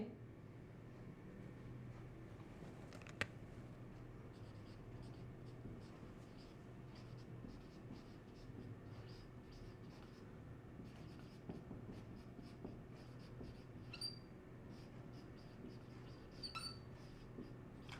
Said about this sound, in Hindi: अब मैं इसको थोड़ा सा नीचे लिख देता हूं